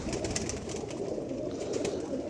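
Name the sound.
pigeon cooing while held for vaccination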